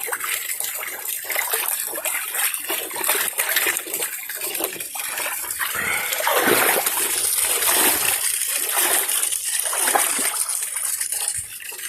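Water in a container is stirred at the surface, giving a continuous churning splash and slosh that swells slightly midway, close and steady with no speech over it.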